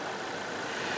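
A 2017 Toyota Hilux 2.8 diesel engine runs steadily after an engine replacement, giving a dense, constant mechanical drone up close with no talk.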